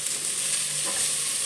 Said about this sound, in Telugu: క్యారెట్ ముక్కలు, పాలకూర, బీన్స్ అన్నీ కూడా వేసి అయితే ఫ్రై చేసుకుంటున్నాను.